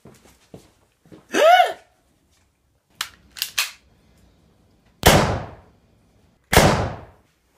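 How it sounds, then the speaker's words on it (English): Two sharp, loud gunshots ring out about a second and a half apart from a nearby house, each with a short echoing decay. Softer knocks and clatter come before them in an otherwise quiet indoor setting. "My neighbor Paulina, I just heard gunshots from her house"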